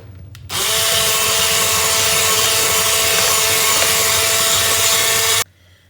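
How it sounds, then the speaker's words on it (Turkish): Electric mixer whisking revani semolina batter with milk, a loud, steady close whir that starts abruptly, holds for about five seconds, then cuts off. "Daha sonra son olarak sütü de ekleyip güzelce hepsini çırpıyorum."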